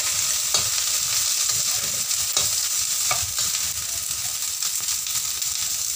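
Long beans stir-frying in a pan with minced garlic and beef fat, a constant loud sizzle broken by repeated scraping stir strokes, with no one talking.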